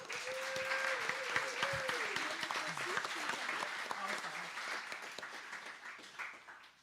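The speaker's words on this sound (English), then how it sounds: "let's give our panelists a quick round of applause" Audience applause for panelists at a labor solidarity panel event, a sustained wash of clapping from a room of people that slowly tapers, with a voice speaking briefly over it early on.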